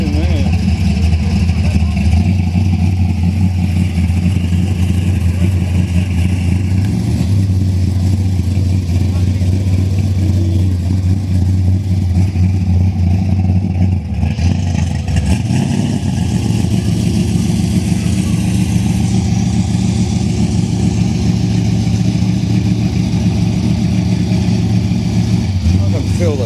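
A car idling at a car meet, its deep, steady engine rumble loud and close throughout, with a brief rise in pitch midway and people talking nearby.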